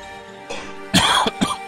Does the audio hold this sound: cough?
yes